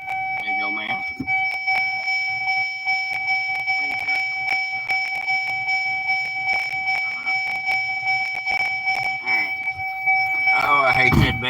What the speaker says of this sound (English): Oh, I hate that bell. I hate that bell.